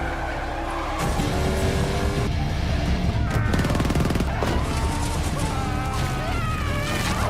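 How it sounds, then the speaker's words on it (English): Movie action scene with bursts of gunfire aimed at an armed attacker aboard a helicopter, loud sharp shots over a dense mix of engine roar, music and crashing effects. "James successfully shot and killed the armed assailant aboard the helicopter."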